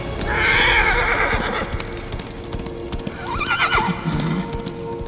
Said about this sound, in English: I was wondering what happened to the horse.